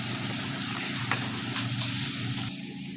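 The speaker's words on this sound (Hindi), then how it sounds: "अब हम डालेंगे लहसुन अदरक का पेस्ट और इसे भूनेंगे 2 से 3 मिनट अच्छी तरह।" Garlic ginger paste frying in ghee for fish curry, a steady loud sizzle close up with stirring, the hiss dropping slightly near the end.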